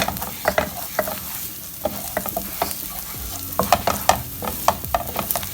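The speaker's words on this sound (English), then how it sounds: "all we're going to do is add in our chopped garlic, and we're also going to fry everything up" Chopped garlic and caramelized onions fry in a pan for samosa filling, an even sizzle under frequent sharp clicks and scrapes of a utensil stirring, no speech.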